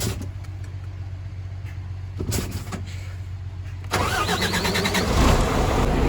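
A tractor engine cranks over a low running hum, catches around the midpoint, and settles into a loud, rough, close idle, with no talk.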